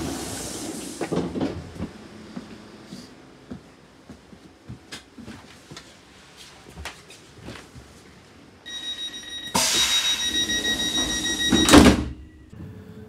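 Commuter train pulling out of London Bridge station, with door and carriage clunks and a low rumble building, then a rising electric whine and a loud rushing surge near the end as the train gathers speed.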